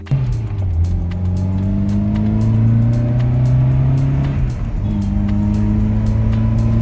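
A Ford MK2 Escort Sport engine drones steadily from inside the car as it is driven, rising in pitch through a gear, dipping briefly at a shift, then pulling up again.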